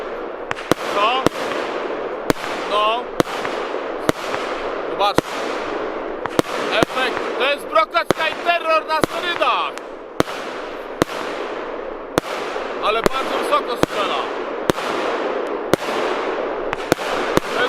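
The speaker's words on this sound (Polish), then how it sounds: "Piękny, opadający krokacik. Strzela bardzo wysoko." Fireworks show with shells fired high, bursting in sharp repeated bangs followed by falling crackling effects, a dense rhythmic barrage at moderate distance with a voice speaking over it.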